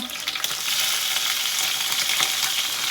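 Cumin seeds and chillies frying in a pan of hot oil: a loud, dense close crackle and sizzle that swells after a brief stir, with no voices.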